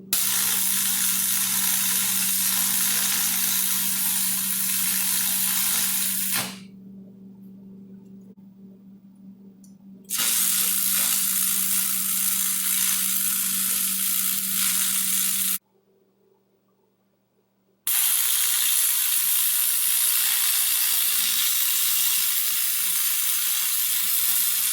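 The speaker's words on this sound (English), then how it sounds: "Okay, so got this welded on here." Steel is welded onto a homemade motorcycle tire changer, loud crackling arc bursts in three long runs separated by quiet pauses, with a steady low hum beneath the first two.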